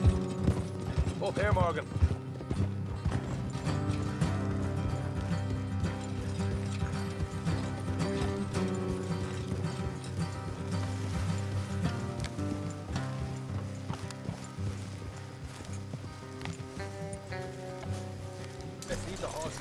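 Horses clip-clop along at a riding pace in Red Dead Redemption 2, a steady hoof rhythm running throughout with low mechanical clatter, under game music and a man's brief spoken line.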